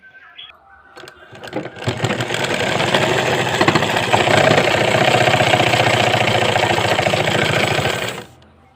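Sewing machine stitching up a torn dress hem, starting after a few faint clicks and then running steadily and loudly for about six seconds with a fast, even mechanical chatter before stopping.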